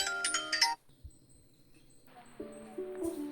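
A phone rings with an incoming call, a bright electronic ringtone heard as a short melodic burst, then a pause and another quieter tone phrase, in an otherwise quiet room.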